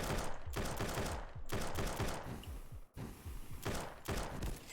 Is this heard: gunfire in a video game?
yes